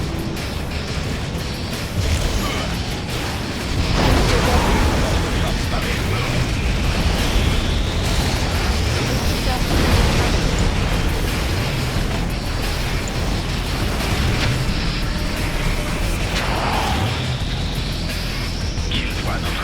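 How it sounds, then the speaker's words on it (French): Explosions boom and rumble from warning shots in the strategy game Command & Conquer: Red Alert 3, playing as the Empire faction, with heavy blasts layered over continuous battle noise and game music. "Tire d'avertissement d'abord."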